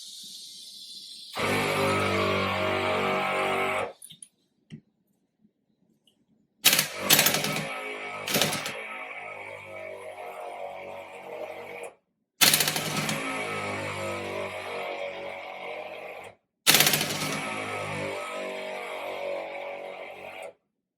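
Air impact wrench hammering on Jeep Wrangler Rubicon lug nuts, fed by an ARB twin compressor: four loud, close bursts of rapid rattling impacts, each lasting a few seconds, separated by short silences and brief clicks.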